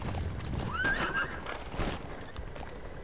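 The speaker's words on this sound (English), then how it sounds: "Okay, get off the horse." A horse in the video game Metal Gear Solid 5: The Phantom Pain gives one rising whinny near the start, with hoofbeats clopping beneath it over steady in-game background noise.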